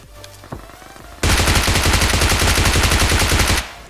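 A submachine gun fires in a battle royale video game: after a couple of faint early shots, a loud, rapid, continuous burst runs for about two and a half seconds, then stops abruptly.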